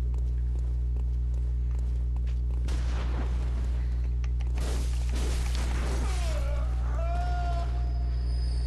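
Gunshots ring out in the video game Bloodborne, a couple of sharp bangs over a steady low hum, followed by high whining, cat-like cries.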